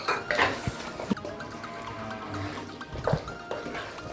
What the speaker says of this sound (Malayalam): നമുക്ക് 1 ടേബിൾ സ്പൂൺ നാരങ്ങാ നീര് ചേർക്കാം